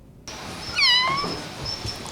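An injured, burned kitten gives a single clear, high meow lasting about a second, close and alone in a quiet room.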